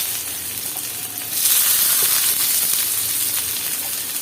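Dried chili, chopped garlic and onion frying in oil for a homemade chutney, giving a steady, close sizzling hiss that swells louder partway through and holds without talk.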